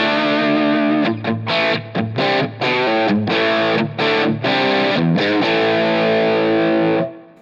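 An electric guitar runs through a Line 6 Helix using the stock 160 ribbon mic cab model placed 6.5 inches off, playing loud distorted chords with rhythmic stops and a final ringing chord that cuts out.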